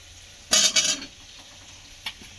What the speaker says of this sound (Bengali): এই সময় আলুটা দিয়ে এর সঙ্গে একটু কষিয়ে নেব